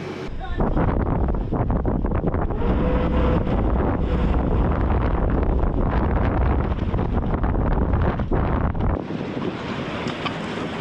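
Strong stormy wind batters a motorboat heading for a lock on the way to Blokzijl, a loud continuous roar of gusts and microphone buffeting with water noise beneath, easing abruptly near the end.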